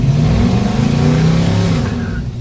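LS-swapped 1968 Chevy C10 truck doing a burnout, a loud, steady engine roar held near the top of its revs with tire noise over it, sustained and close throughout.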